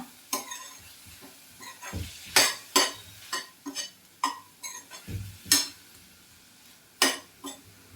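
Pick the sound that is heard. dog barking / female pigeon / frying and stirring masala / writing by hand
frying and stirring masala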